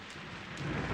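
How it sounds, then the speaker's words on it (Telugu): Heavy rain pours steadily while a low thunder rumble swells toward the end, loud and close. "వర్షం"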